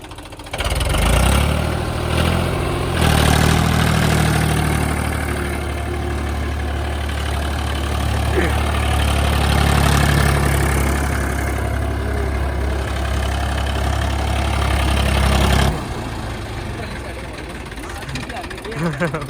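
A tractor engine runs loud and close, a steady low rumble with rev changes and a brief drop early on, cutting off near the end; people talk over it.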